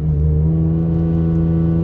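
Infiniti Q60 engine with a modified exhaust, a steady loud droning hum from inside the car, held at constant revs throughout the short stretch.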